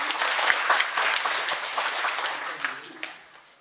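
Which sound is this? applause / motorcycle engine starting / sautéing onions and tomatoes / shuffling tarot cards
applause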